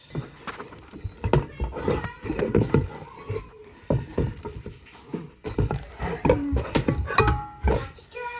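Bread dough is worked together with sourdough starter in a bowl: irregular scraping, knocking and soft squelching clatter close by, in uneven bursts with short pauses.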